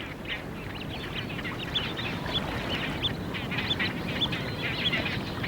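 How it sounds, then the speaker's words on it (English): Little grebe and its chicks calling on a mountain lake in mid-August: a steady, close chorus of high, thin peeping and chittering notes that repeat almost without pause over a soft background hiss. "the little grebe now has 5 hungry chicks to care for"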